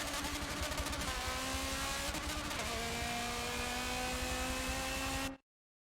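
A GT-R GT3 race car in Forza 7 during an endurance race, its engine screaming at high revs in a steady, dense drone with a gear change partway through, loud and constant until it cuts off abruptly.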